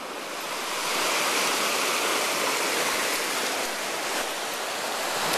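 Flowing stream water rushes steadily and loudly, a continuous full-bodied wash that swells in the first second and then holds, with no voices.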